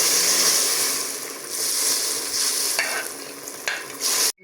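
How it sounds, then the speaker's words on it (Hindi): Browned onions being tipped into cooked chana dal in a pressure cooker and stirred, a loud continuous hiss and scraping sizzle with a few sharper knocks of the spoon near the end. "ये जो प्याज था अब मैं डालूंगी इसके अंदर"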